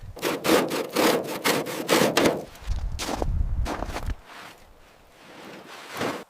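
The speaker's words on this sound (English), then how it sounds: "getting this caked mud and rust off is the first critical step in the restoration" Caked mud and rust being scraped from the body of a 1960 Maserati 3500 GT during restoration: loud rhythmic rasping strokes close up, then slower scrapes trailing off with one final stroke.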